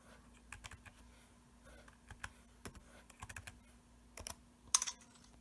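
Password typed on a late-2009 MacBook keyboard, quiet irregular key clicks and taps in small clusters, close but faint, over a low steady hum with no talking.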